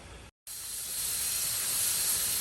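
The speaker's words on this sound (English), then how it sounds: "Once you hear the pressure cooker, that it's pressurized" A pressure cooker cooking Louisiana red beans and rice builds up pressure, a steady rising steam hiss that continues unbroken after a brief cut of silence.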